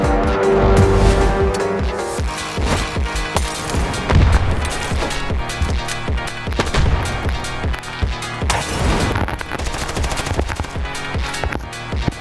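Automatic gunfire from the mobile shooter Standoff 2 rattles in dense, rapid bursts over game sound and music, loud and continuous for the whole stretch.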